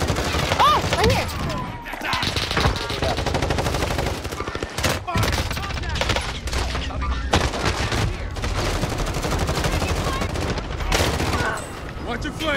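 Rapid automatic gunfire in Modern Warfare Warzone, including P90 and MP5 submachine guns, crackles in dense overlapping bursts throughout, loud and close, while players shout over the shooting.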